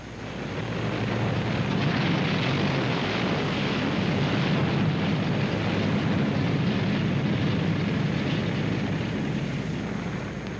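Several B-17 bomber engines run at the start of a bombing mission as the first plane is turned into the wind, a steady, dense propeller-engine roar that stays loud and even throughout, with no voices.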